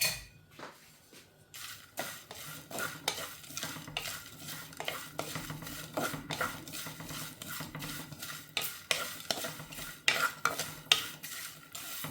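Prawns sizzle and fry in a hot pan while being stirred, with steady crackling and repeated scraping and clinking of a spoon against the pan, close and continuous.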